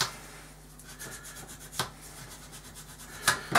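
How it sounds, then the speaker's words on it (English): Repeated scratchy rubbing strokes of hand sanding an He 219 model, a steady back-and-forth rasp with a few sharper scrapes, close up and without speech. "get some finer grits and some sanding sponges and things to work in there to polish it out"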